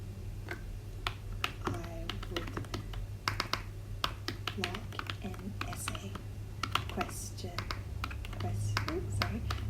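Keys clack irregularly on a computer keyboard, close and fairly quiet, in quick bursts with brief pauses over a low steady hum.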